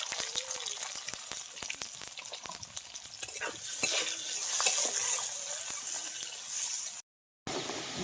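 Bay leaf, green chili and onion fry in hot oil in a pan after fish, a steady sizzle punctuated by frequent clinking stirs and scrapes, swelling louder midway before a brief gap.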